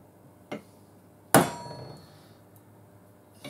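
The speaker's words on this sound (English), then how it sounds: "Get your punch and a yellow tight hammer. We're gonna punch that." Two metallic strikes of a hammer on a center punch marking metal: a light tap, then a sharp, ringing blow that fades slowly, with quiet between.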